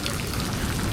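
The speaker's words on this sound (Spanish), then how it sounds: "Ahí está lloviendo" Steady rain pattering on a small beach food-stall shelter at Cuyagua, Venezuela, a dense, even hiss of drops on the roof that holds through the whole second with no voices.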